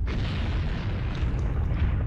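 A cannon blast in the video game Greed Corp, a loud, deep, rumbling explosion that holds steady across the whole short stretch without talk.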